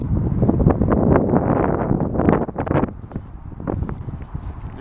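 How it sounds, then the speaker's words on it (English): Strong gusts of wind buffet the microphone on a countryside walk near old stables, loud rumbling bursts that swell and ease, with faint rustling in the background. "There's a bit of a wind, so if you can't hear us, it's because of the wind."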